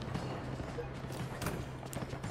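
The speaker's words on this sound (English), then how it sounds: "There's a horse out here." A horse's hooves clip-clop faintly in the prison-escape game The Escapists 2. A few light clops are scattered across a busy, steady background with a low hum.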